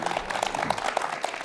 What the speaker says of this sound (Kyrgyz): Кол чаап коелу